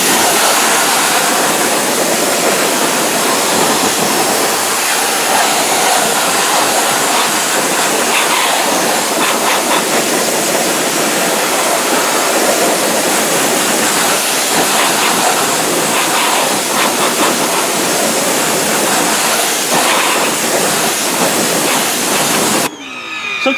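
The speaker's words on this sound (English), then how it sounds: "I take the tip off and I kind of really rinse out that barrel" A power washer with its tip removed rinses out wheel barrels, a loud, steady, broad rushing hiss of spraying water that runs unbroken for over twenty seconds before cutting off abruptly.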